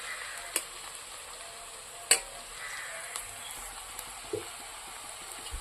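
Onions fry in a pan with a soft, steady sizzle, broken by a few faint clicks and ticks, quiet and close with no talking.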